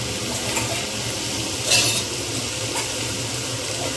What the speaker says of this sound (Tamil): இப்போ நான் கொஞ்சம் கருவேப்பிலை ஊற்றி போடுறேன்.